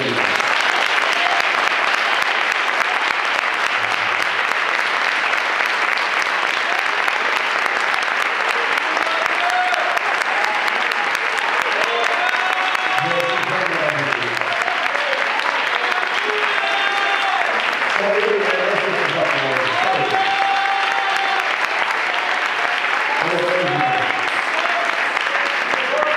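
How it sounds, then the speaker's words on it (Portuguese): A church congregation applauds continuously, a dense, loud wash of clapping from many hands that holds steady throughout, with scattered voices and cheers rising faintly within it. "Eu gostaria que nesse momento toda a igreja aplaudisse a Jesus pela beleza da sua vida."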